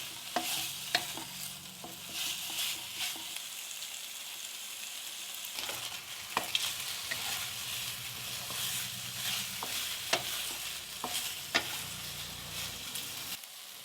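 Pork fries in a pan over a low flame and is stirred, giving a continuous bright sizzle with intermittent scraping and metallic taps of a utensil against the pan, close and fairly quiet, without voices.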